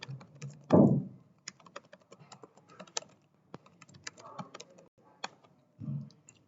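Irregular keystrokes tap on a computer keyboard in short bursts and pauses, close and crisp, with a louder thump or two among the clicks; no one speaks.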